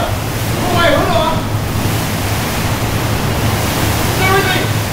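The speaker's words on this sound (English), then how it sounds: "It's pretty windy, as you can tell." Strong Tropical Storm Fay wind roars loudly and continuously, buffeting the microphone, while a voice speaks briefly early on and again near the end.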